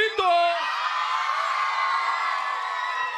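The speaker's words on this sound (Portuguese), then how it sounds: "Quem curte o Babu do Favorito, dá um grito" A TV studio audience, largely children, erupts in a loud, sustained shout and cheer that holds steady for several seconds after a voice prompts it.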